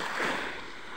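Sea waves at a beach, a brief soft wash of surf swelling and easing away, steady and moderately distant with no voices.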